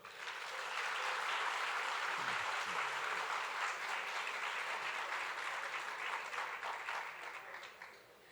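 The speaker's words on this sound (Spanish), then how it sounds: "a quien pido saludemos con un gran aplauso" A large audience at a literary conversation event welcomes a Spanish writer and poet with sustained, full applause that holds steady throughout and tapers off slightly at the end.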